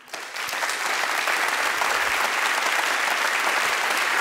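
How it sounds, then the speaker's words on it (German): Sustained audience applause at an evening panel event in Bonn, a dense, steady wash of clapping that swells in quickly and holds at an even, fairly loud level with no talk over it. "Applaus."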